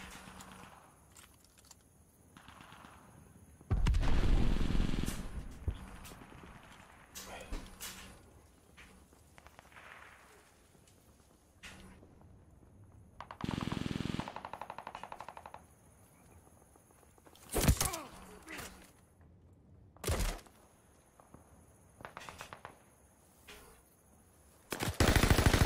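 Gunfire in a Call of Duty free-for-all match, with short bursts of automatic fire and single loud shots spread across otherwise quiet stretches, plus faint footsteps between bursts.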